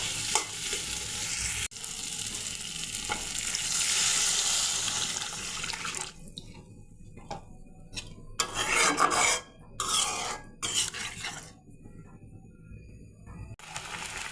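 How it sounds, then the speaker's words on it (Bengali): Liquid goes into a pan of potatoes fried with spices for a koi fish curry, a loud sputtering hiss that gives way to scraping stirs and bursts of sizzle separated by brief near-silences. "এখন ঝোল দিয়ে দেব।"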